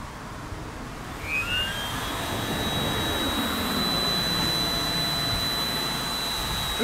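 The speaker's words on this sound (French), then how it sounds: "Puisque ma pompe est réglée à 4 PSI, là que j'arrive à 4 PSI, je vais l'entendre, ça va changer de son." Electric air pump set to 4 PSI inflating the floor of a Scout 430 inflatable boat, a steady close whirring drone that holds constant throughout with a thin rising whine, no voices.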